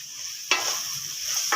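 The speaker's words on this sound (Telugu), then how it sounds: "దొండకాయలు ఇలా వేగుతూ ఉంటాయి." Chopped ivy gourds (dondakaya) fry in a hot pan in a village-style kitchen, with a constant bright sizzle and two sharp bursts of stirring, close by and with no talk.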